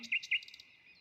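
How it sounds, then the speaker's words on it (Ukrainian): A crow calls in a short bird-sounds recording for young children, two quick bright calls followed by a few softer chirps, heard alone without speech. "Ворона."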